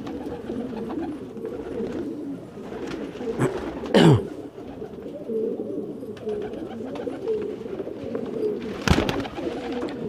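Pigeons of old, rare breeds cooing, low murmuring coos throughout with a couple of louder sharp calls or flutters, close by.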